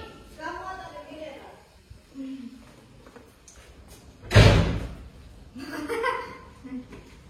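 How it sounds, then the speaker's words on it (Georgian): A door slams shut once with a sharp, loud thud in a home, with voices talking and laughing before and after the bang. "დაიხურა კარი"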